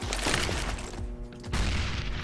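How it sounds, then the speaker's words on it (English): A flashbang grenade goes off in a shooter video game as a loud, close, booming burst, followed by a brief dip and then another rush of heavy noise. "I'm throwing a flashbang."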